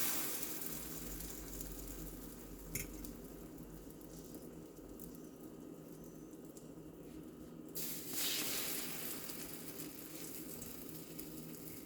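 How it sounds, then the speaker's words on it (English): Butter browning in a frying pan while French toast is made: a soft, continuous sizzle and hiss that holds steady at a low level, with a few faint clinks and brief louder bursts of spattering. "you can see my butter starting to brown over there"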